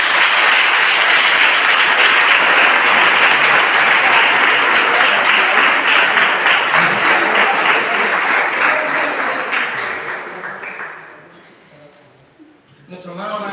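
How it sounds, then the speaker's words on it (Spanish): A church congregation applauds during a child's presentation service, a loud, sustained wash of clapping that holds steady for about ten seconds before fading out, with a few scattered claps near the end. "¿Te podéis dar un aplauso al Señor?"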